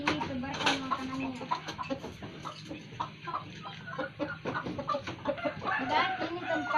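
Backyard chickens cluck and chatter repeatedly as feed is scattered for them, a steady close flock noise with no talk over it.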